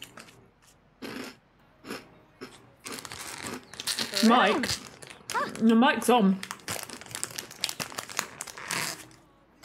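Wheat crunchies snack crunched while the packet crinkles loudly and repeatedly, close to the microphone, with a person speaking briefly in the middle.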